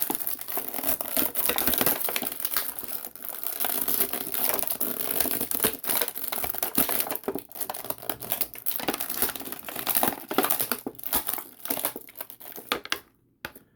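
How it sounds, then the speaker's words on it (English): Plastic blister packaging for Jakks Pacific 4-inch Metal Sonic figures crinkles and crackles loudly and continuously as the figures are pushed out, with sharp snaps throughout and a sudden stop at the end. "volume warning as I pop them out of the plastic"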